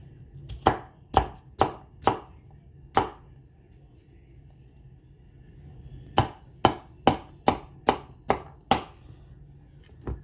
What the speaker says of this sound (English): just chop, chop, chop.